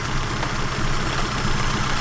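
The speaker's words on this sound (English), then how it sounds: "it's a really nice sounding engine for a little 4-banger" A small four-cylinder engine in a Mazda 121 runs steadily at idle with a low, even rumble and a faint knocking texture, close and continuous with no talk over it.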